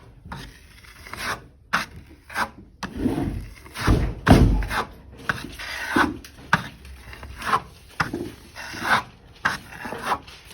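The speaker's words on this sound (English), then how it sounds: "we're just going to do a quick little sand, knock down the high spots" Hand sanding over a drywall patch to knock down high spots, a series of close, rhythmic rasping strokes with a few soft thumps and no speech.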